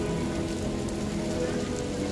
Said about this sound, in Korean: 그래도 비가 많이 오는데